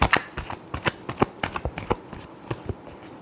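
Tarot cards shuffled by hand during a love reading, a quick run of crisp riffling snaps and soft papery slaps in an irregular rhythm, close and clear with no talk over it.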